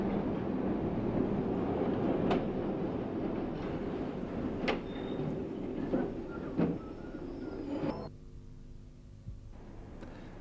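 Steel wheels of an LT&S train rolling on steel rail at about 40 mph, a steady rumbling roar with occasional sharp clanks and squeals, easing to a quieter hum near the end.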